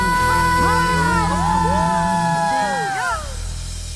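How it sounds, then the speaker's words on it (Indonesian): A church congregation cheers and shouts together at a worship service, a loud, dense crowd of voices with whoops and rising calls that fade slightly toward the end. "Beri yang sorak-sorai bagi nama Dia"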